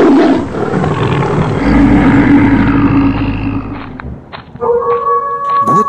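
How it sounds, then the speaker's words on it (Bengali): Cartoon wild animals, a tiger, bear and lion, emerging from a forest with loud, deep growling roars that swell and fade over several seconds. A sudden burst of sharper, tonal effects follows near the end. "বন থেকে বেরিয়ে এলো বাঘ, ভাল্লুক, সিংহ, আরও কত কি জানোয়ার।"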